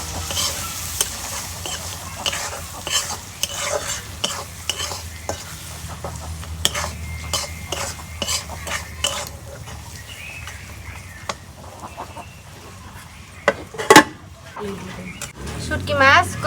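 Dried fish (shutki) fries in a clay pot with spices and is stirred repeatedly, giving a steady sizzle broken by scraping spoon strokes at close range, with a brief louder clatter near the end.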